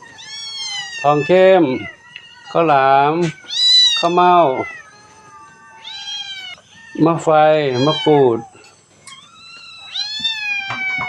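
Several temple cats meowing loudly and repeatedly on a cool morning after rain, with long, insistent cries close by and pauses between them, while someone talks over them.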